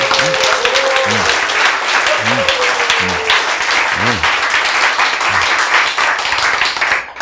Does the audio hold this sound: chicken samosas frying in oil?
no